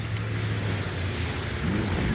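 Vehicle engines from the World War II strategy game Sudden Strike Forever run with a steady low drone and a faint whine rising near the end. No speech is heard.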